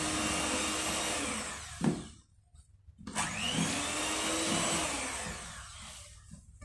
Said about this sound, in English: add in the egg mixture, and then we whisk it a little.